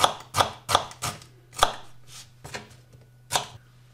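A knife chops a small onion into fine dice on a board, about ten sharp, close cuts in an uneven rhythm over a steady low hum, with no voices.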